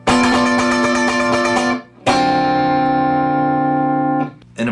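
Clean electric guitar plays a funk riff, two bright, ringing chord phrases with a short gap between, loud and close with no talk.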